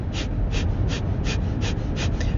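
Breath of fire yoga breathing: seven quick, forceful exhales through the nose at an even, rapid pace, each a short close puff with passive inhales between and a steady noise bed underneath.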